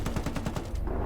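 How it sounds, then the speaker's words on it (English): Machine gun fire in Call to Arms: Gates of Hell, a rapid burst of about eight close, loud shots that stops abruptly near the end, with no voices. "Oh cool, I got 2 machine guns."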